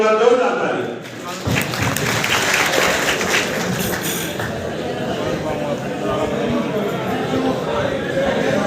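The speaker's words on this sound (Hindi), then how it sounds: "एक बार जोरदार ताली।" Crowd of villagers applauding at a public rally for the chief minister, loud sustained clapping that swells after a brief lull and holds steady, with a voice over a loudspeaker.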